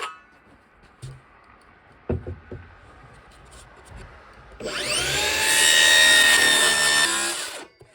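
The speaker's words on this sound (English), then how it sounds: "Now I'm just gonna cut that with my circular saw." A circular saw cuts through a wood furring strip, starting with scattered handling knocks and a brief bump, then a loud, sustained high whine as the blade spins up and bites for about three seconds before winding down.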